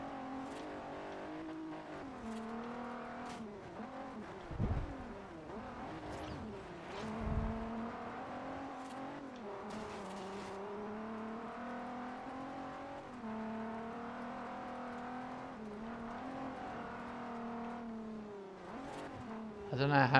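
A Nissan car engine in the Forza Horizon video game hums and revs steadily, the pitch rising and falling with acceleration and shifts, with a couple of brief thumps along the way.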